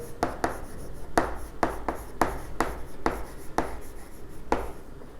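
Chalk or marker strokes on a board while an accounting ledger format is written out, giving a series of short, sharp scratching strokes in an uneven rhythm, close and fairly clear, with no talking.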